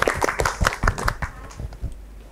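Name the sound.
audience clapping for Malik 2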